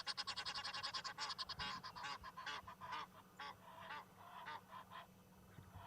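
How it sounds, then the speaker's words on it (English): Egyptian geese honk loudly at sunrise in a rapid run of harsh, nasal calls, dense at first and then breaking into more scattered, uneven honks close by. "those Egyptian geese want the spotlight. They are being very loud."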